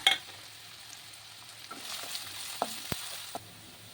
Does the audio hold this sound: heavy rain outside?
no